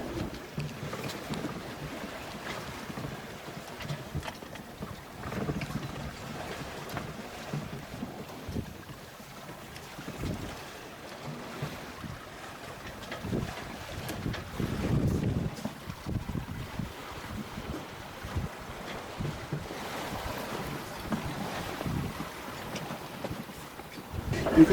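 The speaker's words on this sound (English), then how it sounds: "she's rolling a bit with the swell" Sailing yacht rolling in a following swell off the Welsh coast near Bardsey Island, with steady wind buffeting the microphone, water sloshing along the hull and surges as the boat rolls; no talking.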